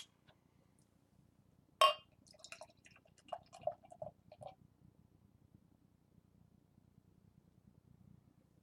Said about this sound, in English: Let's crack this beer open, give it a pour